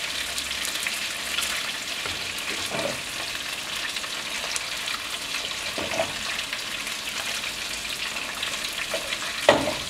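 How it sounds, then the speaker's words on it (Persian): Chicken wings sizzle and crackle steadily in a hot pan, a continuous close frying hiss with occasional small clinks. "کتفا دارن سرخ میشن"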